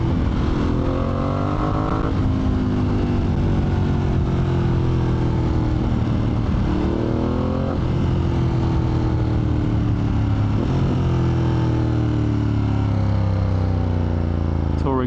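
A motorcycle engine running in touring mode, a loud steady drone with rising and falling revs through several gear changes, heard close and continuous.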